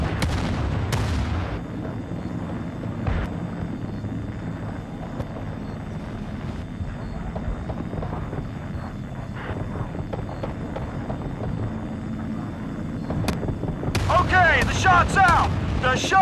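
Artillery fire and shell impacts in the video game Battlefield: Bad Company, heavy booms and a rumbling low bed with a distant aircraft-like drone, then a cluster of sharp blasts and crackling near the end.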